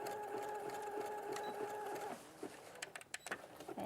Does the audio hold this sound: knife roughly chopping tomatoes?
no